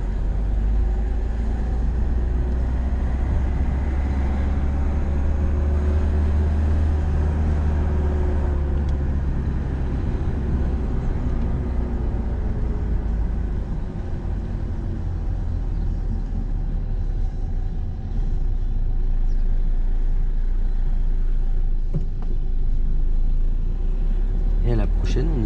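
A car accelerates during a driving lesson, its engine rumbling low and steady and rising in pitch through the gears, heard from inside the cabin beneath an instructor's voice speaking French.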